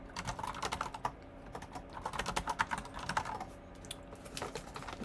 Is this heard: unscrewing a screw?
no